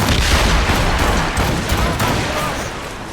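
Naval cannon fire from sailing warships in Assassin's Creed, set in the Seven Years' War era of 1754: a dense, continuous rumble of overlapping booms with broadband crackle, loud and sustained across the whole stretch with no clear pauses.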